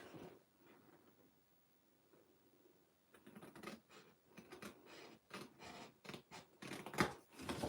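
Scissors cut through paper for a Stampin' Up! card craft: quiet rustling at first, then a series of close, crisp snips and rasping cuts in irregular bursts, with no talking.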